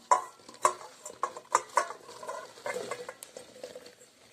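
Washed broad beans are tipped into a cooking pot, giving a run of rattling clatters and clinks that taper into softer shuffling.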